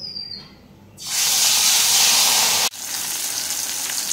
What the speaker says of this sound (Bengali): এইখানে মাছগুলো ভাজা হচ্ছে